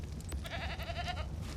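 A goat in ARK: Survival Ascended gives a couple of short, nasal bleats over a low ambient game hum, close and fairly clear, with no talking.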